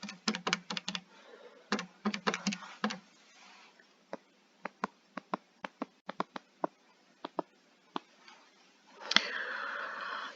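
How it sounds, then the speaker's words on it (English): Calculator buttons pressed to enter numbers, giving quick clusters of sharp taps followed by a slower run of single clicks, close and fairly quiet, ending with a brief rustle. "Just type it in the calculator."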